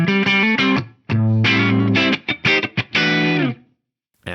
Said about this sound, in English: It's basically just a JTM 45 with a bit of compression and reverb.